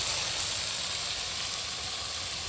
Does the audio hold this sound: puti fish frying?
yes